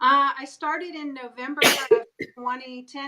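A single sharp sneeze breaks into a conversation, with talk continuing before and after it.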